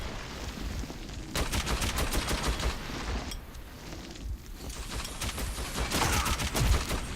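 Rapid bursts of gunfire from the video game Metro 2033, dense overlapping shots sounding close and loud, with a short lull midway before the shooting picks up again.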